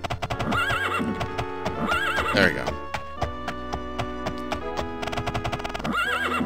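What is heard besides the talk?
horse neighing and hooves in video game The Elder Scrolls II: Daggerfall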